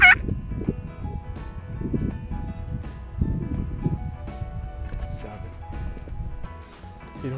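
A hunter's call imitating a wild turkey yelps in short bursts in spring woodland, fairly close, with quiet pauses between the series.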